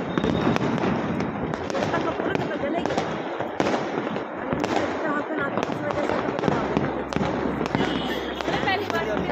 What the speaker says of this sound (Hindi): साड़ी में कोई स्काई शॉट छोड़ रहा है